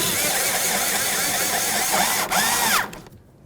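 A power driver whirs steadily as it runs a 10mm-headed bolt into a 2008–2012 Jeep Liberty door, a close, loud, continuous spin with pitch wobbling as the bolt snugs, then a brief pause and a final burst before winding down.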